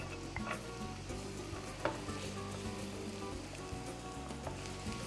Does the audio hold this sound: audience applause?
no